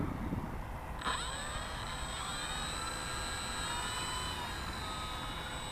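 An eFlite Valiant RC model plane takes off in gusty strong wind. Its electric motor jumps to a high, steady whine that holds over a constant roar of wind buffeting the microphone.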